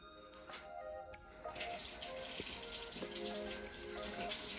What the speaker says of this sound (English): it's really important to wash our hands with soap and water